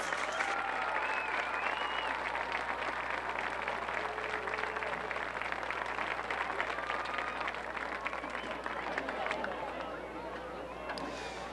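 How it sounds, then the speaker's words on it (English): Sustained applause rises from a stadium crowd at a 2012 high school football game between Chardon and West Geauga in Ohio, a steady dense roar of clapping and cheering over a constant low hum, loud and unbroken throughout. "please join together in a warm round of applause for Mr. Roger Horvath."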